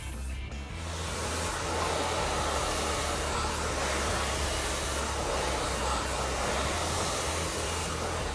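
Hair dryer blow-drying thick hair while a brush glides through, a loud, steady, close roar holding evenly throughout after a brief ramp-up at the start.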